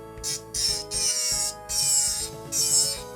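An electric file bit grinding a plastic model part, with a tonal motor whine under it and several loud, hissing grinding bursts as the bit is pressed on and lifted off, close by, with no talk.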